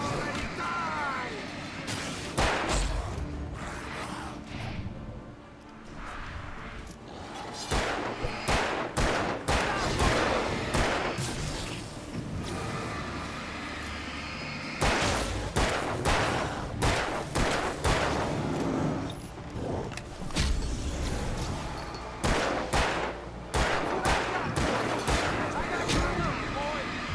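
Gunfire in the video game Alan Wake, repeated clusters of sharp shots and rapid bursts spread across the stretch with quieter pauses between, while voices talk over the shooting.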